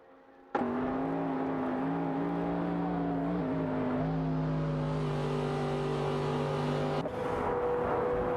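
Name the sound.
Porsche 911 GT2 RS race car engine in a racing video game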